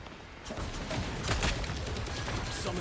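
Gunfire from a video game goes on without a break, dense rapid shots in a busy, loud mix that carries through the whole stretch with little pause.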